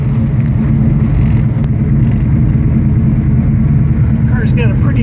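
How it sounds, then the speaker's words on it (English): A 1969 Dodge Charger Hemi R/T sits idling with a deep, steady, loud rumble that runs unbroken through the whole stretch, as close as if standing right beside the car. "Car's got a pretty aggressive rumble."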